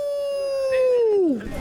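A person at a lakeside barbecue gives a vocal imitation of a wolf howl: one sustained, close, loud tone that slides downward at the end.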